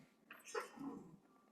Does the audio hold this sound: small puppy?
yes